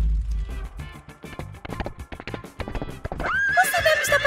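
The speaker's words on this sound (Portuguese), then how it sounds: "O Phil decidiu vir com seu próprio cavalo" A horse clip-clops at a movie theater, its hooves tapping in a quick irregular rhythm before it lets out a loud, close, wavering neigh.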